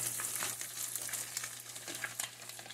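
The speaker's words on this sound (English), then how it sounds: "These are gonna cook real fast in here because I got this oil real hot." Cornmeal-battered crappie frying in very hot, slightly crumb-filled oil, a steady close sizzle with crackling pops scattered throughout and a low constant hum underneath, no voices.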